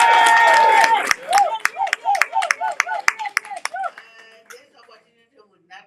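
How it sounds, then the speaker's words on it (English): An audience claps at a school visit by Liberia's First Lady, a burst of hand claps with distinct individual strikes that peaks loudly then thins out and fades to a few scattered claps. "I think it worth clapping for."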